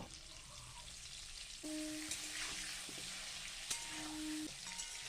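Potatoes with salt and turmeric fry in hot oil in a pan, giving a soft, steady sizzle. Faint tonal hums run underneath.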